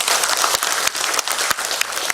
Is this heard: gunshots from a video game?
no